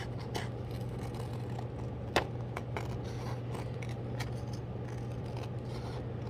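Steady scissor snips trimming the paper border of a gyotaku fish print, a quiet run of close, crisp cuts with one sharper snap midway, over a low constant hum and no talking.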